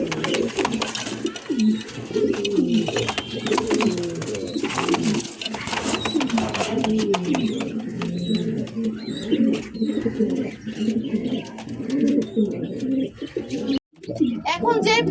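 Red Sirazi pigeons, a new adult pair, coo in a cage with other caged pigeons, their soft repeated coos and chirps close by beneath someone talking nearly throughout.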